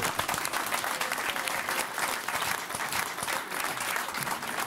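A strong, sustained burst of applause from a studio audience at a 2003 Norwegian TV show, dense steady clapping heard at moderate distance with no talk over it.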